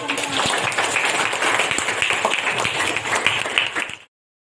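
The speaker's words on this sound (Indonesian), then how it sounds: "Oke, tepuk tangan buat kita semua." A class or group claps together in a steady, sustained round of applause that lasts about four seconds before cutting off abruptly, with voices faintly mixed in.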